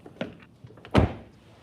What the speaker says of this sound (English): You guys know I love doing a door handle test.